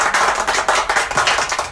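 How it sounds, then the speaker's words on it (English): A classroom of pupils claps for a girl about to read aloud, a dense, close burst of many hands applauding together that stays steady and lively throughout. "Everyone, please clap for Damali because she's not shy to read for us."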